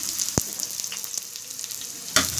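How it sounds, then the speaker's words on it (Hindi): Garlic fries in a pan, a faint steady sizzle with a couple of sharp clacks as onion goes in, followed by a brief louder hiss. "अब इसमें हम प्याज डाल देंगे।"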